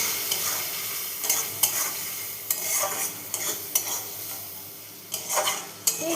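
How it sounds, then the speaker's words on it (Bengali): Chilli powder and turmeric stirred as they fry in a pan, a steady close sizzle broken by repeated scraping strokes of a spoon against the metal. "একটু জাস্ট মশলাটা ভাজা হবে"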